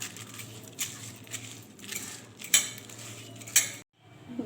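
Rice is mixed with turmeric, garam masala, bay leaf and ginger paste, giving irregular nearby scrapes and clinks of a utensil against a bowl with a few sharper knocks, then a short gap near the end.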